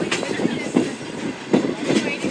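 The Shalimar Express locomotive and train entering a station platform at Rahim Yar Khan, a loud close rumble with rhythmic clickety-clack of wheels over rail joints.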